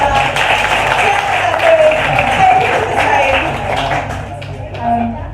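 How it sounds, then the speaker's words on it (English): Comedy club audience gives a round of applause during a stand-up set, a steady dense wash of clapping and crowd noise lasting throughout, with some voices and cheers mixed in. "So just round of applause here."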